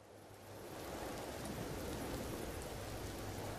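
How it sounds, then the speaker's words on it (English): Rain falling on an ocean planet in the Empyrion Galactic Survival video game, rising from quiet into a steady, soft, even hiss of rainfall that continues without a break. "Oh, it's raining. Nice."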